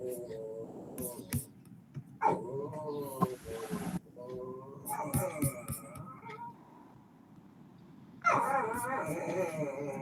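A dog whines and whimpers in high, wavering cries, with short yips scattered through and a person speaking nearby.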